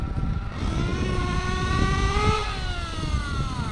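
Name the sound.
Reedy 121-VR nitro engine revving on RC8T, break-in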